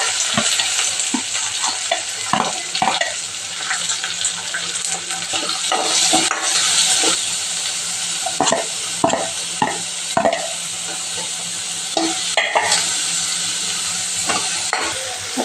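Garam masala and cumin sizzle loudly in hot oil for a Gujarati paneer masala, with steady frying hiss broken by repeated scraping stirs and occasional clinks of a spoon on the pan, no talking.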